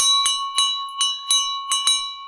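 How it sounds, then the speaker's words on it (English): An ancient temple bell from Vietnam is struck repeatedly, six bright metallic strikes in a fairly steady rhythm, each ringing into a sustained, shimmering tone that overlaps the next, close and loud with no voices. "Here's a bell I found in a temple. Vietnam. It's an ancient temple bell."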